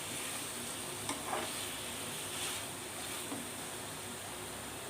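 Chicken lollipop pieces sizzle in sauce over a low flame, giving an even, close frying hiss. A few soft stirring knocks and scrapes sound through it.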